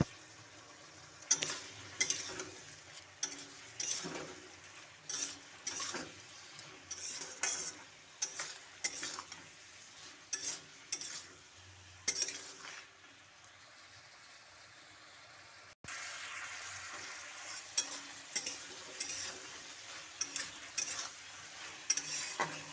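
Ridge gourd cooking with fish, turmeric, cumin and chili powder in a pan, a low sizzle broken by repeated sharp scrapes and clinks of a utensil stirring, with a brief lull midway.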